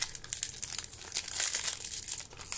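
Close crinkling and tearing of a foil Japanese Magic: The Gathering War of the Spark booster pack, a few sharp rips among rustling plastic, loud and alone.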